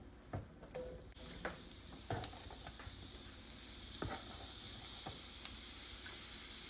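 Morel mushrooms sizzle steadily in butter in an iron skillet over medium heat. Occasional sharp clinks and scrapes of stirring break through the continuous close hiss.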